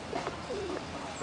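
A pigeon in Washington Square Park gives a short, soft coo close by, a brief low warbling call over outdoor park ambience.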